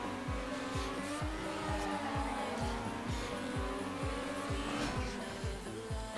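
In Trackmania, a car's engine drones at racing speed while tires squeal through a drift, with rhythmic thumping pulses and a sustained high whine, close and continuous.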